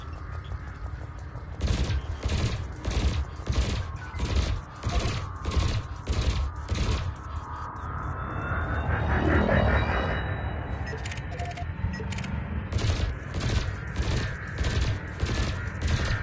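Spaceship weapons in Elite Dangerous fire at a harmless training drone, a rapid regular volley of sharp shots that pauses for a rising whooshing engine sweep, then resumes in steady bursts.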